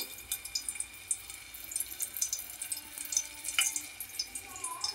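Green chillies rinsed under a running kitchen tap, a quiet continuous splash of water with soft fluttering drips and spatters, fairly low in level with no talking.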